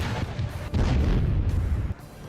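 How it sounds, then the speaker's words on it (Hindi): A Russian artillery cannon fires a shell, a deep rumbling blast with heavy low-end boom that swells and rolls on for about two seconds. "इस तोप के सामने जो भी टारगेट आता है वो इसके एक ही गोले से तबाह हो जाता है"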